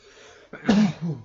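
A single sneeze bursts out in a quiet indoor room during a tabletop role-playing game discussion, with a sharp onset followed by a short trailing exhale.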